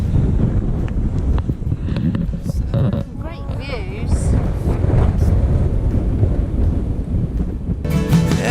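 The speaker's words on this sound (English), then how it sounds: "It's quite windy now." Gusty wind buffets the microphone with a steady low roar on a bikepacking tour between Ronda and Ardales in southern Spain, while a voice speaks briefly over it.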